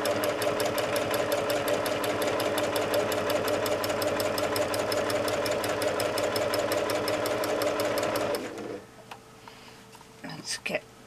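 A sewing machine stitches a quilt at its slowest speed, a steady mechanical whirring with regular needle clicks for about eight seconds, then stopping abruptly, followed by a few faint handling sounds.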